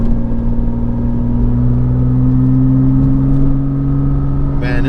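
A Porsche Cayman S with a Fab Speed catback exhaust idles nearby with a deep, steady droning hum, loud and even, and a brief voice is heard at the very end.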